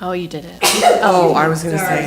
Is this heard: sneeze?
yes